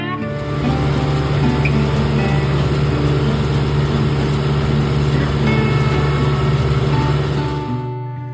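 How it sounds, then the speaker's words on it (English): A tractor pulls a hay baler through its cycle during the first hay cutting, giving a loud, steady engine drone with rhythmic mechanical rumbling that holds for the whole stretch and fades at the end. "It was impressive to me how much that baler shakes that tractor while it's going through its cycle."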